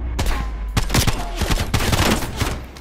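Pistol gunfire rings out in a video game as a rapid string of sharp, closely spaced shots over a couple of seconds, moderately loud, with no speech over it.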